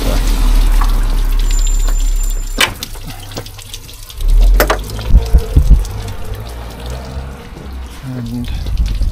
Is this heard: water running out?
yes